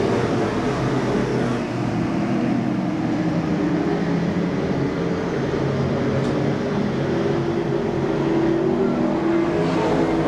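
Pro Stock race cars roar around the Seekonk Speedway oval during a 100-lap feature race, a dense, continuous engine drone from several cars at once that swells slightly without pause.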